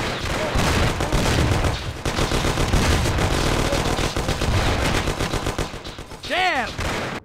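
Gunfire in a 1930s gangster shootout in the game Mafia, with dense, loud, overlapping automatic bursts and shots running almost without pause and a few sharper ricochet-like whines near the end.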